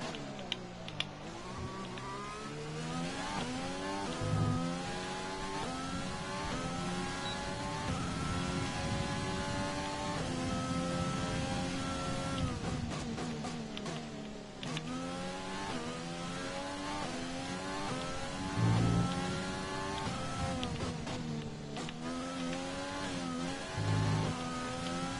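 An F1 car in the F1 2020 game on a qualifying lap at Bahrain, its high engine whine climbing through rapid upshifts, dropping on downshifts under braking, then revving hard again, continuous and alone.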